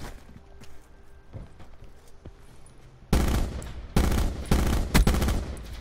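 Bursts of automatic gunfire in the shooter Black Ops 4, quiet for about three seconds and then loud rapid rattling volleys broken by brief gaps, with no talking.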